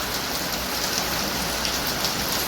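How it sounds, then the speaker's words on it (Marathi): Heavy rain pouring steadily onto surfaces during a village visit, a dense, even hiss with no pauses and no voices. "इथं असला पाऊस येत आहे"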